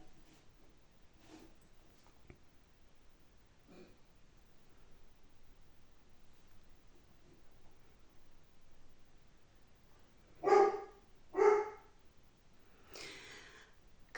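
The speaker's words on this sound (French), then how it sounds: "il y a mon chien qui veut montrer qu'il est là" A pet dog indoors gives two loud, close barks in quick succession after a long stretch of quiet room noise, with faint rustling and soft sounds before and after.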